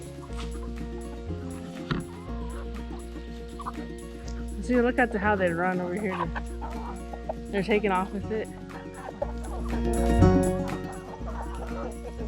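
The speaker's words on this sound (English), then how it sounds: "I'm going to feed to the chickens, and they will they'll eat most of it" Backyard chickens clucking and squawking busily while eating garden scraps, a dense nearby chorus of overlapping clucks rising in bursts, with a person talking over them.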